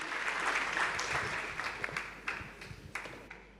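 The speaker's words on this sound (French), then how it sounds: "Et on l'applaudit" Audience applause at a colloquium on sport and management, many hands clapping in a steady wash that thins out toward the end, with separate claps becoming audible.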